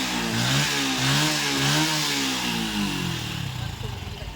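A motorcycle engine runs with a fitted replacement regulator, revving in wavering pulses and then settling toward an uneven idle, loud and close, while someone talks over it.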